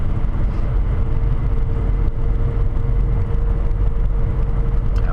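Car accelerating on a snow-covered roadway in winter, a steady, close engine and road rumble that stays constant throughout with no voices.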